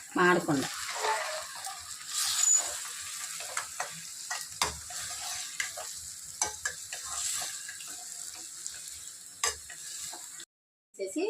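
Chicken pieces sizzle in a hot pan over medium-low heat while a spoon scrapes and clicks as it stirs, with brief pauses between strokes.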